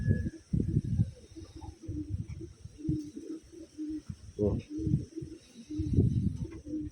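Taiwan pigeons coo softly in a loft, with repeated low murmuring calls in irregular bursts at moderate distance; faint background noise runs underneath.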